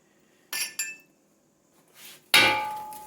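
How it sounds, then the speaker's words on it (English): A measuring cup knocked in a kitchen while making rice, two quick clinks, a short pause, then a loud clattering clang that rings out and fades, with no talk. "almost broke my measuring cup"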